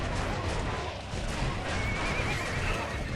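A horse whinnies amid battle noise in the video game Kingdom Under Fire: The Crusaders, a dense, loud mix of hooves and clamour running without pause.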